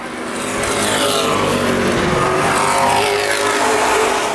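SuperPro late model race cars roar around Baer Field Speedway in Fort Wayne during the Gold Cup 100, a loud, continuous, dense engine drone that swells slightly and holds steady with no voice over it.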